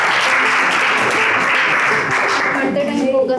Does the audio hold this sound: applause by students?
yes